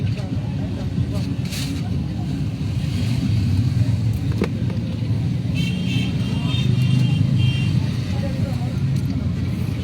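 A car drives through the city streets of Yaoundé, with steady engine and road noise, passing traffic and voices talking inside throughout.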